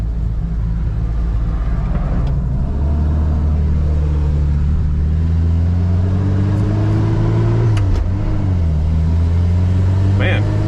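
Cars in road traffic roll past with a steady, close engine rumble, rising slightly in pitch as one vehicle accelerates before easing off again.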